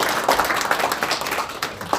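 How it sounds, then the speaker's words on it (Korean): Audience at a press conference applauding a professor, a brief, steady burst of many hands clapping at moderate volume with no talking over it. "우리 이재봉 교수님께 여러분 다시 한번 뜨거운 박수를 부탁드립니다."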